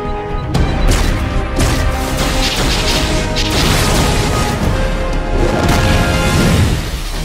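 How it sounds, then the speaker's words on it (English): Dense, continuous rumble of artillery strikes and explosions in a DC Justice League superhero fight, loud and sustained with overlapping crashes and booms throughout, no speech. "while I call down some artillery"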